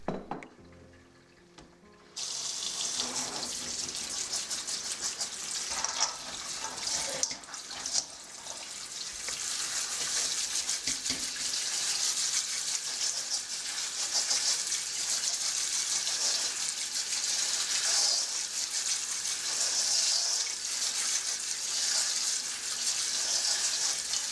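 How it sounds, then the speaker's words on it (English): Tap water runs steadily into a sink while dried beans are drained and rinsed for pasta e ceci, a continuous close splashing hiss after a brief quiet start. "drain and rinse the beans"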